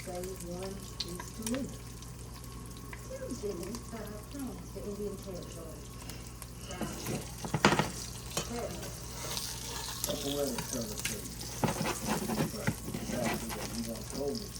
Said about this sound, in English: Got that double yolk in there cooking, y'all.